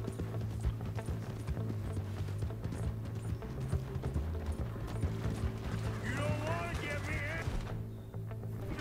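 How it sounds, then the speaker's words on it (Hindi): Hoofbeats of a galloping horse in Red Dead Redemption 2, a fast steady rhythmic clatter running throughout, with game music and effects mixed in and no talking. "भाई काफी तेज भाग रहा है ये तो घोड़ा"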